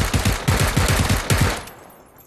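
Rapid automatic gunfire from PlayerUnknown's Battlegrounds, a close, dense burst of repeated shots lasting under two seconds before cutting off into quiet.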